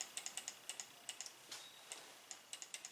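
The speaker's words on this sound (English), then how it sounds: "Sorry about the clicking noise from the mouse" Sharp, light clicks come in quick irregular bursts, close and fairly quiet, like a mouse button being pressed repeatedly.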